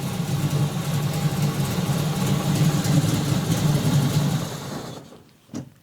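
A 1968 Chevrolet Camaro V8 with 2.5-inch exhaust, Flowmaster 40 mufflers and mid-pipe cutouts idles with a loud, steady low rumble, then the engine cuts off near the end, leaving quiet with one brief knock.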